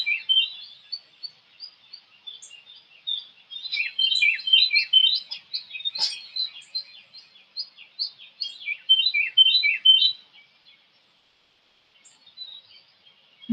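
Songbirds chirp and trill continuously in dense, overlapping high calls, busy for about ten seconds before thinning to near silence, with a brief sharp click midway and no voices.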